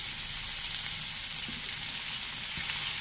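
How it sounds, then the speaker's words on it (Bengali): Chopped onion added to frying potato and eggplant sizzles loudly and continuously in the pan, a dense close crackle with faint stirring knocks. "পেঁয়াজ কুচি দিয়ে দিলাম"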